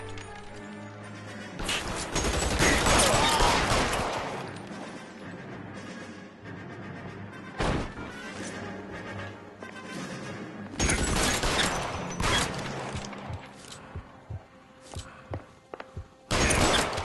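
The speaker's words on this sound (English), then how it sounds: "Their guns are firing far too many bullets to just Rambo in." Shootout gunfire in L.A. Noire: bursts of rapid, crackling shots in several loud volleys separated by quieter stretches, with scattered single bangs and thuds near the end.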